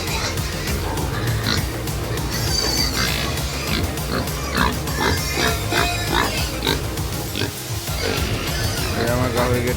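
Pigs on a pig farm in Assam give off steady grunts and squeals throughout, close and fairly loud, while a person talks over the pen noise.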